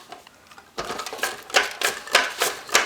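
Cabbage shredded on a mandolin slicer for homemade sauerkraut, a quiet start then a run of sharp rhythmic slicing strokes, close and fairly loud, each stroke a crisp burst, with no voices.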